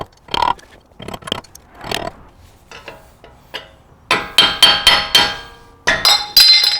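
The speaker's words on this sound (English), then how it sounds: "We want to get right into the edge here and just hammer on it and work our way around." Sharp metallic hammer strikes on the edge of a Toyota 4Runner wheel hub cap ring out, sparse and irregular at first, then a quicker run of loud clanging blows close by.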